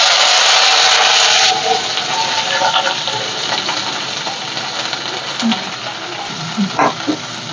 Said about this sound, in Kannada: ಸ್ವಲ್ಪ ಚೆನ್ನಾಗಿ ಫ್ರೈ ಮಾಡಿಕೊಡ್ರಿ.